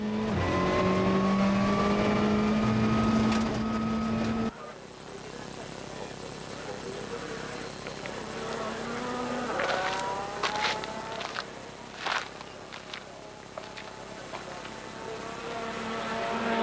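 A rally car at speed on a gravel stage of the Otago Rally, its engine droning loudly with gear changes. Then a lower, rougher running with sharp clicks and gravel crackle takes over, while a commentator talks over it.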